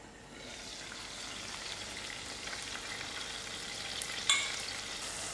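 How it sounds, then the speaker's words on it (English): Dried fish frying in a pan for chutney sizzles with a steady faint hiss, a brief clink as the fish is turned near the end, and no talking. "I'll keep turning my fish that I am frying."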